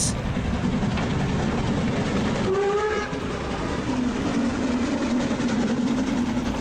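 A train in the video game The Night of the Rabbit rumbles past with continuous rattling clatter and a brief horn tone partway through, loud and sustained throughout.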